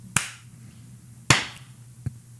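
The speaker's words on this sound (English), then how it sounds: "Let's clap." Hands clap sharply and close by in a sync clap: two crisp, loud smacks about a second apart, then a softer third, with no talking in between.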